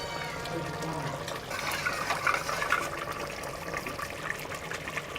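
Roasted flour dissolved in water is poured into a pot of chicken nihari, a soft liquid trickle and splash that swells and eases, close and steady with no talking.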